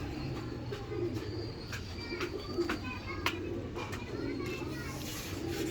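Rare fancy-breed pigeons coo repeatedly in soft, throaty bursts nearby while people talk over them.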